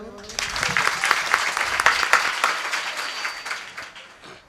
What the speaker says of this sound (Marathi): आता टाळ्या वाजवर